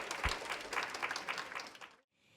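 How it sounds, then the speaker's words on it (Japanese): Audience applause at a Japanese conference session, a short burst of clapping at moderate distance that cuts off abruptly into near silence. "もう一度大きな拍手お願いいたします"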